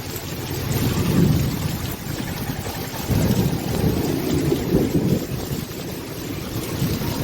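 A heavy thunderstorm with pouring rain roaring steadily and deep rumbles of thunder swelling and fading, loud and continuous with no voices.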